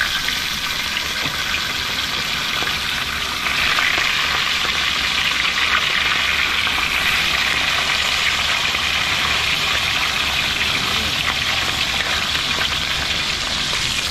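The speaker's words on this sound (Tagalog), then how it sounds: "Prito naman tayo ng ating daing na tilapia." Dried tilapia (daing) frying in oil, a dense continuous hiss that holds loud and even throughout, with no speech.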